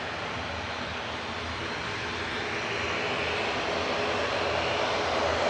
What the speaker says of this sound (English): Aer Lingus, noisy prop next to go.